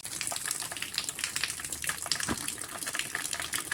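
Water gushes in a strong, continuous rush as it is caught for watering plants at a home garden in the morning, splashing steadily and close by.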